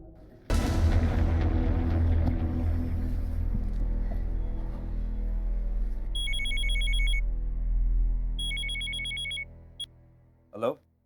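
A telephone rings in two short electronic trilling bursts over a loud dramatic musical drone in a crime drama scene, ending with a brief rising tone.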